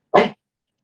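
A single short sneeze bursts out in a quiet meeting room, loud and close, then silence follows.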